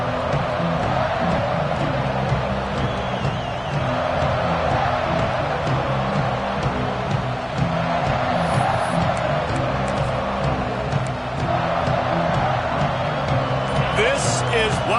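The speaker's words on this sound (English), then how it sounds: "This crowd ready to make its presence known." A football stadium crowd roars in a steady, dense wash of noise for the whole stretch, with a commentator talking over it.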